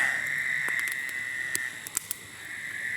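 Steady high-pitched chorus of frogs at night by a lake, a continuous trilling drone with a few sharper calls and clicks, fairly distant, no talking.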